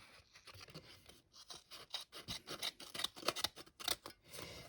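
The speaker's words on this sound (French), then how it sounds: "je vais couper ça en deux" Scissors cut a piece of paper in two with a run of quiet, close snips and rasping rubs in an irregular rhythm, with no voices.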